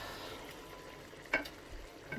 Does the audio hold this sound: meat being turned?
yes